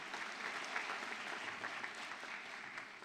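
Steady audience applause at an 8th grade graduation ceremony at a charter academy, a dense continuous patter of many hands clapping throughout with no speech over it.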